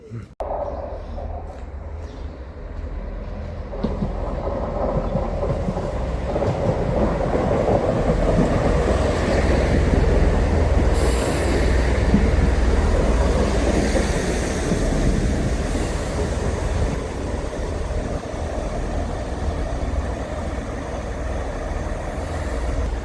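A train pulls into Teignmouth station: steady, loud rumbling rail noise with wheel and engine roar building and sustained throughout, no voices.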